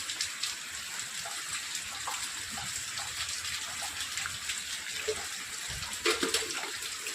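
Rainwater pours from a pipeline under a tin-sheet roof edge, a steady close hissing gush of flowing water with occasional faint splashes and a brief voice in the background.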